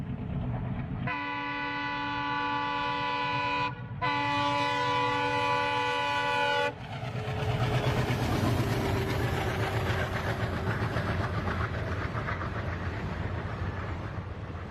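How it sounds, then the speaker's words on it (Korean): A black steam train sounds its whistle in long sustained blasts with a brief break, then thunders past at full speed with loud rushing, rumbling rail noise that carries on to the end. "시커먼 기차가 미친 듯이 기적을 울리고 허연 연기를 뿜어내면서 전속력으로 달려 나왔다."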